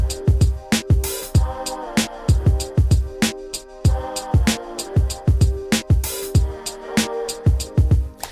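A programmed drum beat loops steadily and loudly: punchy kicks and snares under a running pattern of closed hi-hats with occasional open hi-hat hits, plus a sustained tonal layer beneath, and no voices.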